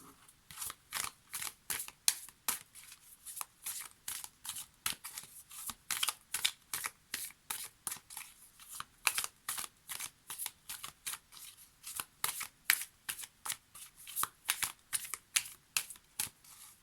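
Oracle cards being shuffled for a tarot reading, a long run of quick crisp riffling bursts in a steady rhythm, close and clear with no talking.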